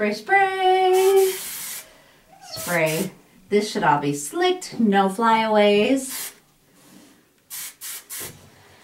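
Someone talks while several short, hissing bursts of hairspray sound nearby on competition hair, with two quick sprays close together at the end.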